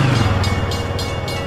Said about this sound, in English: the engineer gives three short blasts on the horn to let everybody know the train is backing up